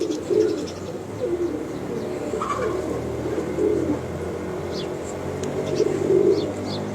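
Pigeons coo in soft, repeated rolling phrases inside a champion racing-pigeon loft in Lahore, several birds overlapping at close range, with faint chirps and light background murmur.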